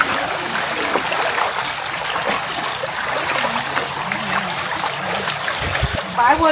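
A flooded river in a dense forest in the Konkan, its swollen stream rushing and splashing in a steady broad wash close by, with a voice briefly heard over it near the end.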